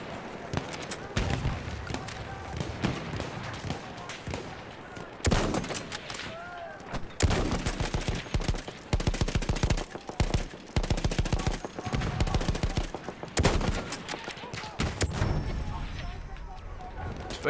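Rapid rattling gunfire in Battlefield 1 multiplayer, coming in repeated automatic bursts with short gaps, loud and close, while someone talks intermittently over the shooting.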